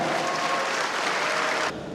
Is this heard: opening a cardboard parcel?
no